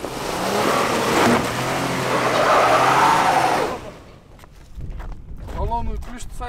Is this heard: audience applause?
no